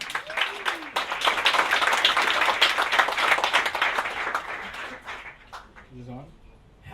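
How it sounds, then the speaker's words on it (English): A live studio audience claps together in a burst of applause that swells, holds for a few seconds, then thins out as a voice begins speaking near the end. "let's clap it up."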